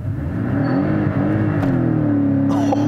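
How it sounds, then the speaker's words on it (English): A Porsche 718 Cayman GTS makes a launch-control full-throttle start, its engine note climbing and holding at high revs from inside the car, with a sharp click partway through. "Put your foot hard on the brake, it'll say hold, floor the accelerator."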